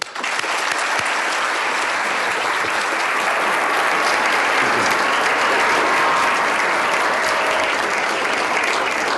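An audience breaks into sustained, dense applause to welcome Anatoly Chubais and Nubar Afeyan at a nanotechnology talk, a loud even roar of clapping that holds steady for several seconds.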